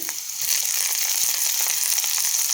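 Crushed garlic, crushed ginger and green chilli fry in hot oil, a dense close sizzle that swells after a brief quieter start and then holds steady, with a faint tap or two.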